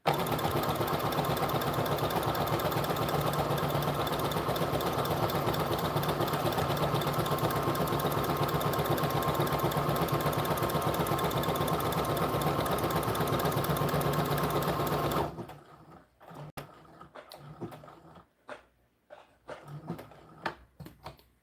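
A sewing machine stitches the skirt of an American Girl doll outfit with a steady, fast, whirring hum for about fifteen seconds, then stops, leaving a few scattered clicks and light handling sounds.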